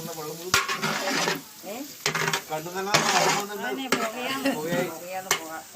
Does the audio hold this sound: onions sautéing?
yes